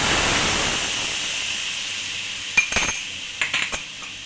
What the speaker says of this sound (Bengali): এর মধ্যে দিয়ে দিচ্ছি আমি এক কাপ দুধ